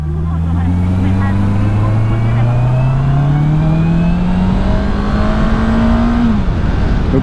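Honda CBR 650 R motorcycle engine accelerating hard, a loud steady rising whine climbing through the gears for about six seconds before easing off, heard from on the bike with wind noise throughout.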